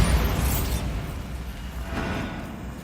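A Bombarda blast spell in the video game Hogwarts Legacy, a loud booming explosion that hits at once and then rumbles and fades over a few seconds.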